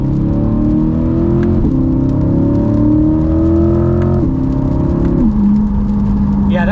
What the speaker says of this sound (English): And I'll get you guys one more little acceleration.